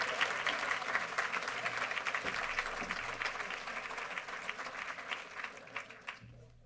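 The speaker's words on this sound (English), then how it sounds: "Let's give all of our Dr. Martin Luther King Jr. top academic students one final applause." A community breakfast audience applauds top academic students, dense clapping that holds steady and then thins out toward the end, with faint crowd murmur underneath.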